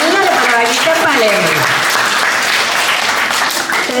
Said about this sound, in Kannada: ಅವರಿಗೆ ಎಲ್ಲರ ಪರವಾಗಿ ಚಪ್ಪಾಳೆ.